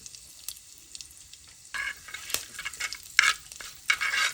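Curry leaves, mustard seeds and asafoetida crackle in hot oil in a pan, close and fairly loud, with bursts of sizzling and stirring that grow stronger after a quiet start; no one speaks.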